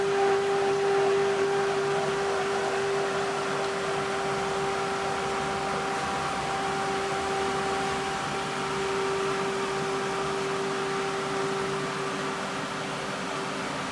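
A hot tub pool pump in a plant room repriming after a backwash, a steady droning hum with a constant tonal whine and broadband rushing noise, unchanging and continuous throughout.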